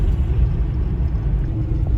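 Car driving curvy mountain roads: a steady, deep engine and road rumble from inside the vehicle, even and fairly loud, with no talking.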